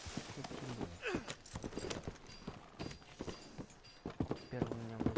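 Horse hooves clip-clopping in Red Dead Redemption 2, with a close, uneven run of hoof strikes layered with other game sounds and a voice speaking intermittently.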